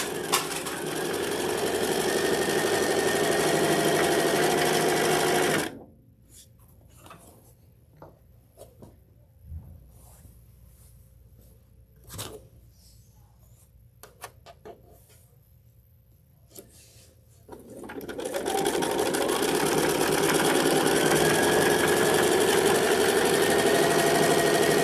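A sewing machine stitches fabric to the edge in two loud, steady runs of rapid mechanical whirring, separated by a quiet stretch of several seconds with only faint clicks and handling noises.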